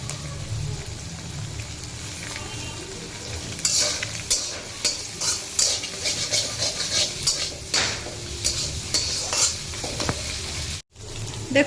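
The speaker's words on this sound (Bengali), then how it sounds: "এবার আমরা এর মধ্যে দিয়ে দেবো কারি পাত্তি" Curry leaves hit hot oil for a flattened-rice pulao. A steady sizzle is joined partway through by bursts of crackling and spoon stirring, close by, with a brief cut near the end and no talking.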